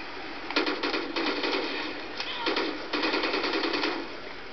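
Rapid automatic fire from the K12 weapon in Call of Duty: Ghosts Extinction mode, coming in several loud sustained bursts separated by short gaps, with no one talking.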